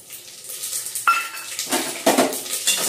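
Whole spices such as cardamom, bay leaf and shahjeera are stirred and fried in a pan, with metallic scrapes and clinks of a spoon against the pan over a faint sizzle, close and fairly quiet.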